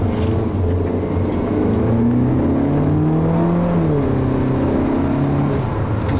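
A 2012 Mini Cooper S Hatchback with an automatic gearbox drives from inside the cabin, its engine whirring and revving steadily while pitch climbs and drops through quick gear shifts, with loud continuous road noise.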